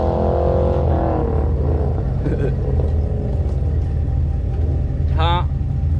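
A Ford Mustang at an outdoor car show gives a loud, steady engine rumble that swells and falls. Several voices talk over it throughout, and a brief high whine or squeal cuts in near the end.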